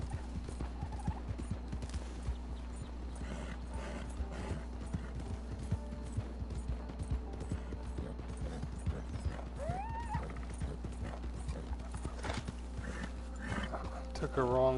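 Horse hooves galloping in Red Dead Redemption 2, a steady rapid clip-clop running through the whole stretch, with game ambience, a brief whinny-like call and someone talking over it.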